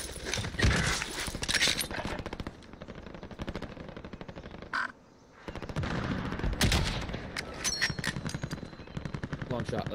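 Rapid bursts of gunfire from a first-person shooter video game crackle loudly and almost continuously, with a short lull in the middle, over a busy mix of game effects.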